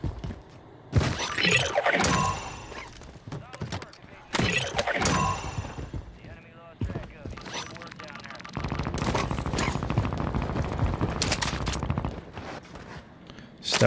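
Gunfire in the Warzone video game, including KAR98k rifle shots: loud bursts and rapid volleys with shattering and mechanical clatter, mixed with a player's talk.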